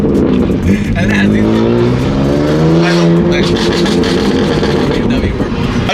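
A BMW F80 M3 with a flame-tuned aftermarket exhaust sounds loudly and up close, holding a steady, deep engine drone with rough, rumbling pulses throughout.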